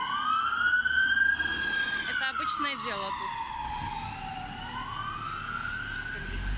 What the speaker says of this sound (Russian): Вот едет скорая помощь. Полиция.